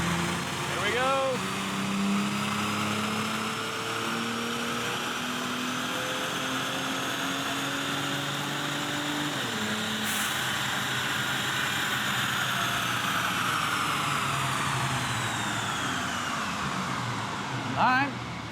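Turbocharged Ford Taurus SHO on a dyno in 4th gear, engine note climbing steadily in a long sustained pull with rising harmonics, then dropping off sharply near the end, loud and close throughout.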